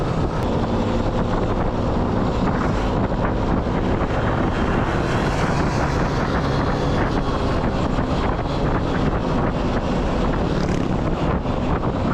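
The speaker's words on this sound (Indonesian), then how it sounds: "Tinggal angin doang." Steady, loud wind buffeting the microphone while riding a motorbike to Sanghyang Kenit near Bandung, a continuous broadband roar with no letup and no talk.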